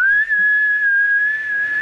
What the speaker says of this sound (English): I can't even fucking whistle with my fingers.